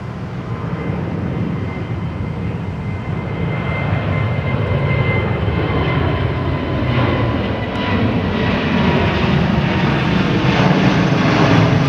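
An airliner going around and climbing away from runway 27R at London Heathrow, giving a loud, steady jet engine roar that builds slightly in strength throughout, with no talk.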